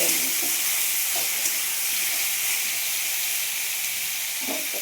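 Five-spice, dried chilli and bay leaf frying in oil for a Bengali Malabar spinach dish, a soft, steady hiss of sizzling oil with a few faint clinks, no voices.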